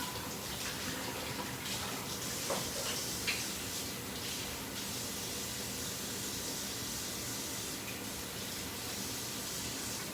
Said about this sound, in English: I'm just gonna wash a container that is in the sink